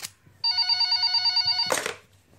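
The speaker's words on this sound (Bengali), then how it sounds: "হঠাৎ একটি ফোন আসায় মনঃসংযোগ করলেন সেদিকে।" An office telephone bell rings as an audio-story sound effect, one sustained, trilling electronic ring just over a second long, clear and prominent. A short burst of rustling noise follows, then quiet.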